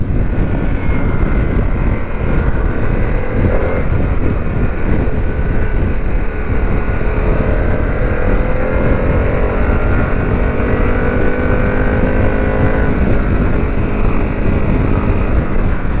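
A 2021 Harley-Davidson Pan America 1250 S motorcycle roars loudly throughout the ride, its engine note climbing and dropping through several gear shifts, with wind rush over the whole stretch.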